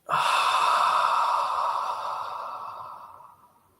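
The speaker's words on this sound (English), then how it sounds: "Breathing out." A single long, audible exhale during a guided breathing exercise, breathy and close, starting strong and fading slowly over a few seconds, with no talking.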